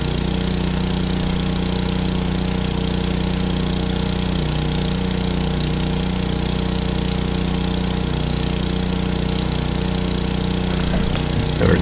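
A well drill's engine runs steadily and loud for the whole stretch, a constant idling drone with no break and a small shift near the end.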